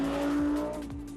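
An Audi R8 mid-engine supercar with a quattro drivetrain and V10 engine drives past close by in a brief burst of engine roar with a sharp tire squeal, no voices.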